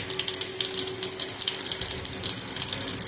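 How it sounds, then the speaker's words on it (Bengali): Cumin seeds sizzle in hot mustard oil at the start of an omelette curry, a steady crackling hiss with small pops that carries on alone without any voice. "দিলাম জিরে ফোড়ন"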